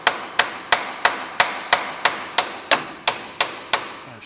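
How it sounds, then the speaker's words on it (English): Hammer blows tapping a wedge-style brake caliper plate on an old tow truck, twelve sharp metallic strikes in a steady, even rhythm, close and loud with short ringing decay. "you're going to take a hammer and tap this plate that way"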